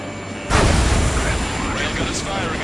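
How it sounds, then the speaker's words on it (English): Railgun firing in the Ace Combat 7 flight game, a sudden heavy blast followed by a loud, sustained roaring rumble that trails on, with a voice faintly mixed in. "Railgun is firing again."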